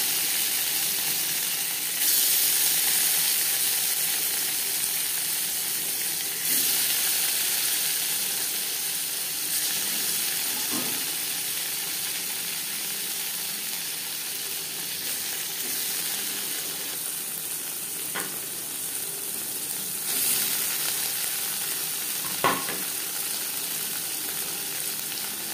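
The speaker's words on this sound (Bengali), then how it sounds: "পনির হালকা করে ভেজে নেব।" Paneer cubes sizzle gently in oil in a kadai after a pinch of salt and turmeric are added, a soft steady frying hiss with occasional faint clicks and scrapes and no talk.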